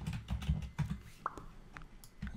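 Typing on a computer keyboard, a run of soft, close key clicks in an uneven rhythm with a few sharper taps, fairly quiet throughout.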